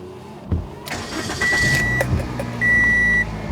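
Ignition switched on in a Toyota Matrix with a freshly replaced instrument cluster, giving a couple of sustained electronic chime tones over a low background hum, with brief clicks near the start.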